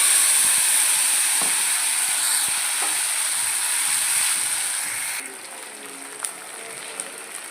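Spice paste hits hot oil with fried whole garam masala and a bay leaf, giving a loud, steady hissing sizzle that quiets somewhat partway through, with a few faint clinks near the end.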